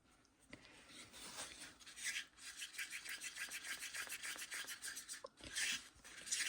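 Epoxy resin being stirred in a mixing cup for Larimar-style pumpkin coasters: soft scraping and rubbing strokes settle into a steady, rhythmic back-and-forth that is close and fairly quiet, with no voices.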